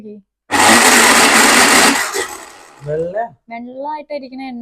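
A mixer grinder with a large jar whirs loudly for about a second and a half while blending mayonnaise, then winds down as a person starts talking over its fading hum.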